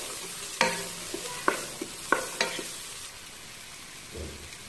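Fried rice with soy sauce and pepper being stirred in a pan, a few sharp spatula scrapes and clacks over a faint sizzle, then quieter.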